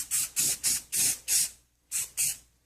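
Aerosol spray can spraying the inside of a lid, seven short hissing bursts in an uneven rhythm with brief gaps, close and fairly loud.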